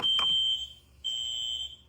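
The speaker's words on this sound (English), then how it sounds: "fire alarm." A real, functioning fire alarm in a toy academy building blares a loud, steady high-pitched electronic tone in two long bursts with a short gap between them, with no talking over it.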